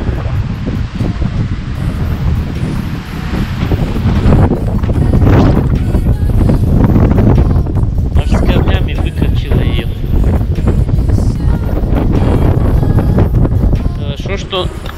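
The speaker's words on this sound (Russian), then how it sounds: "Сильный очень ветер." A strong storm wind in Germany roars and buffets the microphone without a break, loud and close, with rustling mixed in throughout.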